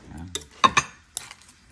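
Tuna and salmon kilawin with vinegar, calamansi and chili being stirred in a bowl: a few sharp utensil clinks and scrapes, close and moderately loud, with quiet gaps between them.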